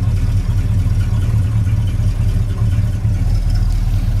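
A 1967 Plymouth Belvedere idles through its dual exhaust, a loud, steady low rumble close by with slight pulsing and no talk.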